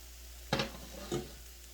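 Oregano, paprika and black pepper warm in a dry pan, giving two short bursts of sizzle and stirring, about half a second apart, against a quiet background.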